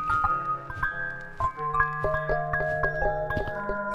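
Glowing crystals in a video game cave chime in a sequence of bell-like tones, overlapping notes sounding one after another in a steady, melodic pattern with low sustained tones beneath.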